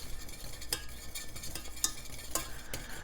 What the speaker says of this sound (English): simmering this for about 5 minutes, stirring quite a bit on both of them